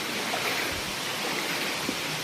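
Steady, close roar of water pouring down at Penchalakona waterfalls, an unbroken wash of noise with no talking.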